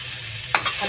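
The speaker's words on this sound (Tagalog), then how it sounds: "Haluin lang natin." Mushrooms being stirred in a frying pan, a steady low sizzle broken by a short scraping stir near the middle of the brief moment.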